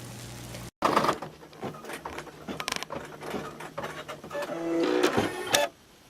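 An embroidery machine stitches at home, starting abruptly after a brief silence with rapid mechanical clattering and tapping that rises and falls in intensity, then cuts off near the end, close and moderately loud with no talking.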